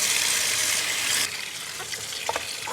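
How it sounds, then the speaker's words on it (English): Tap water runs steadily as fresh salmon is rinsed at a kitchen sink, a loud hissing stream that cuts off partway, followed by quieter wet handling sounds. "So we'll just rub that and then rinse it out."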